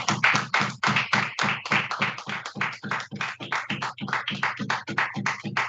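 Congregation applauding during a Shabbat Torah service, with close, loud, dense claps that come in quick rhythmic bursts and hold steady throughout, with no talking over them.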